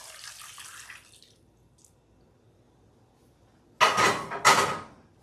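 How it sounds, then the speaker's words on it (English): Braising sauce is poured over short ribs in a crock pot, coming as two short, splashy bursts of liquid after a quieter stretch. "sauce that we've created and we're going to pour it over"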